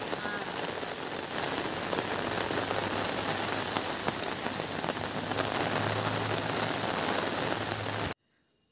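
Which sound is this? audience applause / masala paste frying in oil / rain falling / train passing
rain falling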